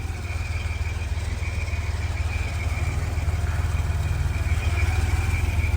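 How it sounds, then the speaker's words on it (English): A 1983 Porsche 911 Targa engine runs steadily at idle, a close and even mechanical hum with a low rumble that holds throughout with no voices. "But the motor sounds amazing."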